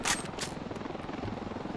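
Rapid, steady rotor thumping from a helicopter in the video game Ravenfield, heard close and continuous, with a couple of brighter bursts at the start over the churning throb.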